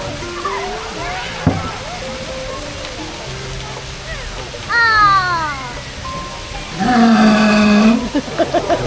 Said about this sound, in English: I'm sure you'll all agree that Elmo has a very impressive roar